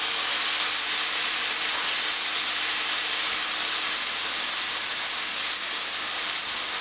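Kebab patties for chapel kebabs fry in a hot pan with a steady, loud, even sizzle throughout and no talking.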